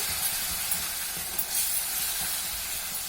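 Tomato paste sizzling in a hot pan while tomato rice is cooked, a steady, even hiss that holds at a fairly quiet level throughout with no voices.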